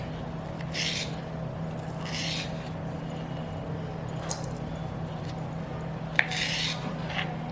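A knife slices green chillies lengthwise for onion potato chilli bhaji, making soft scraping cuts and light clicks against a board, with a few separate strokes over a steady low background hum.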